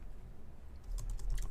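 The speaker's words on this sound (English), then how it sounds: "let's get to the right environment before we start typing" Keystrokes on a computer keyboard, quiet and close, a short run of soft clicks picking up in the second half over faint background hiss.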